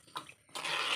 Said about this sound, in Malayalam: നമുക്ക് ആവശ്യത്തിന് കുറച്ച് വെള്ളം ഒഴിച്ച് കൊടുക്കാം.